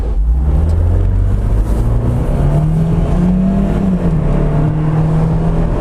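A 2017 Fiat 124 Spyder's engine pulls hard under acceleration, its drone rising steadily and loud, heard from inside the cabin with no talk over it.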